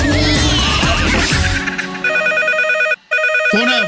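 A telephone ringing as a sound effect in a radio comedy skit: a repeated electronic ring pattern with one short gap, sounding after a burst of music.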